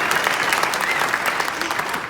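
Dense, steady applause from an audience at a speech, continuous clapping filling the whole stretch at close range with no voices over it.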